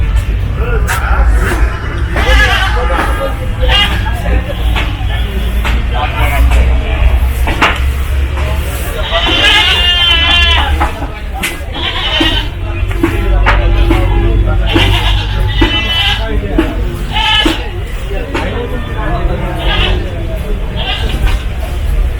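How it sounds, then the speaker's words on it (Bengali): Goats and sheep at Gabtoli cattle market in Dhaka bleat repeatedly in short wavering calls over a dense, constant crowd murmur and market bustle. "এই সাইডটা পুরোটাই ছাগলের জন্য নির্দিষ্ট করে দেওয়া হয়েছে"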